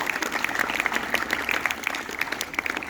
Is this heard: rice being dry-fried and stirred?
no